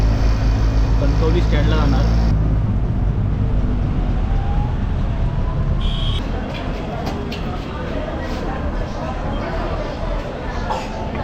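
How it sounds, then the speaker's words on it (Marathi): A shared auto rickshaw's small engine rumbles steadily while riding along, with road noise, a few horn-like tones and people talking over it. "आता शेअर रिक्षा बसलो आहे"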